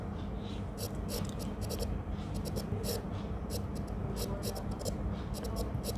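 A pen scratches out a written answer by hand, with steady, rhythmic strokes in quick bursts that continue close up throughout over a low background hum.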